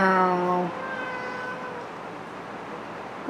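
A cat gives one short, fairly close meow that falls away quickly, followed by quiet background noise.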